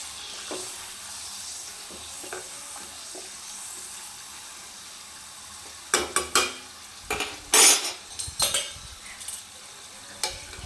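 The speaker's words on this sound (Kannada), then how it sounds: "ಕಾದಿದೆ, ಚೆನ್ನಾಗಿ ಕಾಯಬೇಕು ಎಣ್ಣೆ. ಈಗ ಹಪ್ಪಳ ಹಾಕ್ತಾಯಿದ್ದೀನಿ." A horse gram papad drops into hot oil: a faint, steady sizzle builds into a burst of louder crackling and bubbling bursts midway before settling again, with no talk.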